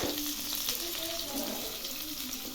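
Onion sizzling and frying in a pan for kande pohe, a steady close hiss with faint crackle running throughout.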